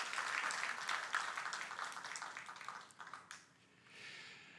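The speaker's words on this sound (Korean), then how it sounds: "우리 박수로 같이 환영하겠습니다." A church congregation claps in welcome for a newly registered family, brisk applause that is faint overall, fading out after about three seconds into a quiet room.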